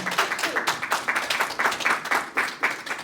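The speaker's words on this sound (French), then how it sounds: "Acclamons pour Jésus." A church congregation claps and cheers for Jesus at a healing service, steady rhythmic applause at moderate distance, with bright clustered hand claps continuing throughout.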